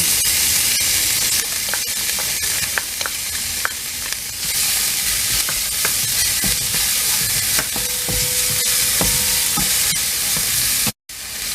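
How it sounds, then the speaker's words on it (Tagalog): Curry paste and ginger sizzle in hot cooking oil for a chicken soup with coconut milk, a dense continuous frying hiss broken by occasional scraping stirs, close and loud, ending with a brief cut. "lagyan na natin ang curry paste sa cooking oil, then i-add natin ang ginger"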